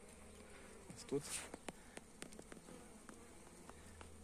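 Honeybees flying in and out of a hive entrance while carrying hazel pollen, a soft close buzzing with individual bees passing near, under a brief quiet spoken remark.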